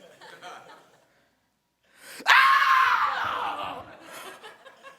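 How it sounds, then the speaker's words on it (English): A person on stage at a live storytelling performance lets out a sudden, loud, strange scream that rises sharply and then trails off. Softer voice sounds come before and after it. "let out the queerest scream that I could summon"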